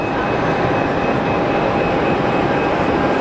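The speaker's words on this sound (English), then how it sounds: "CRJ heading out. The Lufthansa." Lufthansa CRJ regional jet departing Geneva Airport, a loud, steady, broadband jet roar with an even hiss and a constant tone throughout, with no voices.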